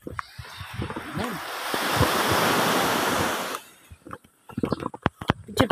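Sea waves rolling onto a shore near seaside houses, a swelling wash that builds, holds, then drops away, followed by bumps and handling noise with wind on the microphone.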